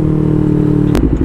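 A big bike motorcycle rumbles loudly at steady speed on the road, a deep continuous engine drone with a sharp rattling burst near the end.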